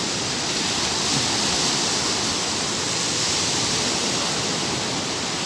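Ocean waves at a Zambales surfing spot roar as a dense, unbroken wash of surf noise, steady and loud throughout with no voices.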